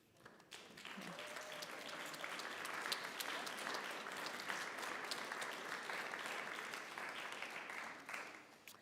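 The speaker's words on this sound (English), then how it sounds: "We just applauded for every group, and I get that." A congregation claps together in a sustained, dense wave of applause that fills the room for about eight seconds before tapering off, with no talking over it.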